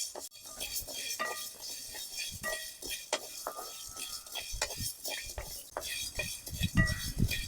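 Rice is stir-roasted in a pan for an old-style village crab curry, with a metal spoon scraping and clinking in quick, irregular strokes and a soft rattle of grains, close up and steady throughout.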